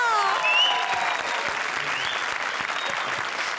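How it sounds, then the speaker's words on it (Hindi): A studio audience at the Indian TV comedy show Comedy Circus 2 applauds the comedy duo Sudesh and Krishna. The clapping is steady and sustained throughout, with a few bright whistle-like tones rising over the crowd. "जोरदार तालियां"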